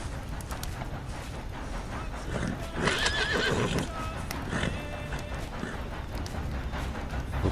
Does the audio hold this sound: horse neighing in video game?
yes